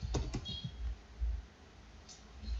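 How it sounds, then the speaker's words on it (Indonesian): Keys clatter on a computer keyboard while code is entered, a few quick quiet clicks close by at the start and a couple more later over a low background hum, with no talking. "Kita mengetik"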